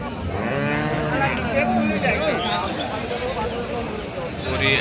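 A black cow lows at a busy Bangladeshi cattle market, its moo sounding amid loud, continuous crowd chatter and talking voices close by.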